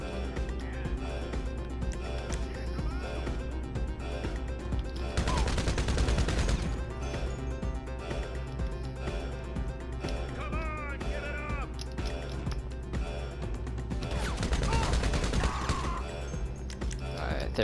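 Gunfire during a casino heist in the GTA 5 video game: bursts of rapid shots crackle over a constant loud game soundtrack, heaviest around the middle and near the end, with voices speaking at times.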